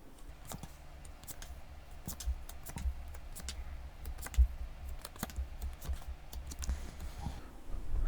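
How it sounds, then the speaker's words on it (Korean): Tarot cards being drawn and handled, crisp light clicks and soft shuffling taps at an irregular pace, close and fairly quiet with no voice over them. "제가 카드 뽑아볼게요."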